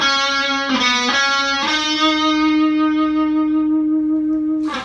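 Distorted electric guitar plays a riff with an altered ending, a few chugged attacks and then a long sustained, ringing chord, loud and alone with no talk.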